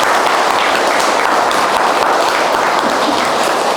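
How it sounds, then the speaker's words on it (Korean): Sustained applause from an audience at a Buddhist dharma talk at Silsangsa temple on Jirisan, a steady dense wash of clapping that fills the room without pause. "박수를 한번 크게 한번 칩시다."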